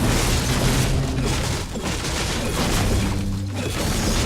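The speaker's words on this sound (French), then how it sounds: "Des grenades." Grenade explosions in a video game as a dense, loud barrage of booms and blasts that continues steadily, with rumbling low tones throughout.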